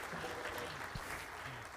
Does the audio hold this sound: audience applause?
yes